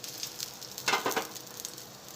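Methi handvo batter sizzles in a hot pan, a soft steady fry with a brief louder burst of crackle as it settles, then a gentle continuous hiss; no voices.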